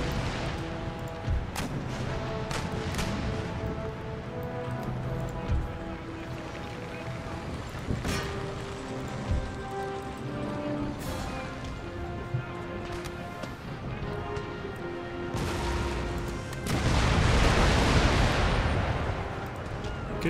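Naval cannons fire chain shot in the PC strategy game Empire: Total War, a series of booming volleys and scattered gunfire over a steady wash of sea and battle ambience, with a heavier rumbling burst near the end.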